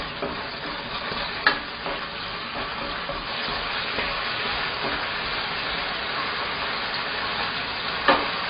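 Chunjang black bean paste fries in about twice its amount of cooking oil over low heat, giving a steady close sizzle with soft stirring scrapes and a couple of sharper utensil knocks, no voices.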